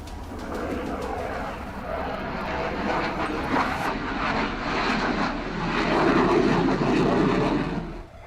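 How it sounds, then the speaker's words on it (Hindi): An HAL Tejas light combat fighter jet roars overhead in a steady, loud engine rumble that swells toward the end, with bird cooing faintly in the background and no talk. "देश में बना लाइट कॉम्बैट एयरक्राफ्ट तेजस छोटी लड़ाई के लिए घातक फाइटर जेट है।"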